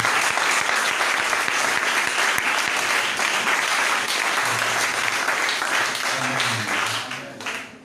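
A church congregation breaks into sustained applause after a sermon, a dense, steady wash of clapping from many hands that fills the space evenly and fades slightly at the end.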